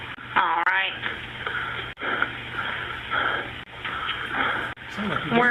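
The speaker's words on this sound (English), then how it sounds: "That was me breathing, yes." Heavy, wheezing breaths come over a narrow-band phone line from a man sitting in his truck, rising and falling in bursts with some muffled noise.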